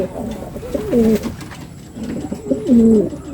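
Beauty Homa pigeons coo in two soft, rolling phrases separated by a short pause. The calls are close and clear, with a faint background hiss and no voices.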